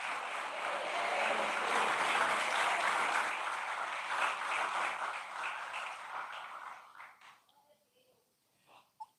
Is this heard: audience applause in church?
yes